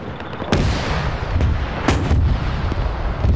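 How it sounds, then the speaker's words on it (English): Heavy cannon blasts from a German Panzer IV tank in a WW2 armor battle game, several loud booming shots at irregular intervals with rumbling battlefield noise between them. "Vic's been hit because this Panzer IV is still firing at him."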